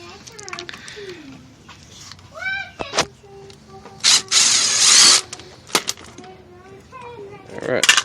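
Ratchet working a 14mm bolt loose from a 2004–2005 Toyota Sienna driver seat belt buckle, with short bursts of ratcheting clicks and a longer loud grinding stretch, while someone talks over it.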